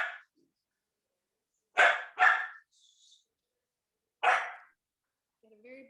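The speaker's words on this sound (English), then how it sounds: "got a very barky dog at the moment" A pet dog barks indoors in short separated bursts, one early, a quick double bark, then another, with silence between and a faint whimper near the end.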